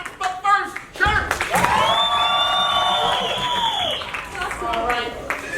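Clapping and cheering erupt from the crowd at a seniors-versus-alumni match during an audience vote, a sustained wash of applause with high whoops and shouts lasting several seconds before easing back toward talk.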